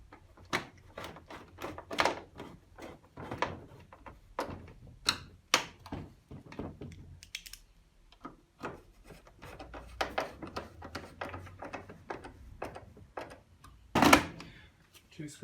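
Screws being driven back into the panel of an AEG tumble dryer: repeated short metallic clicks and scrapes at close range, coming in uneven bursts with pauses, plus one sharper clatter near the end.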